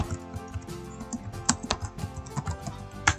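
Fast, irregular keystrokes on a computer keyboard as expenses are entered into a spreadsheet, with a few sharper clicks standing out; close and moderately quiet, and no one speaks.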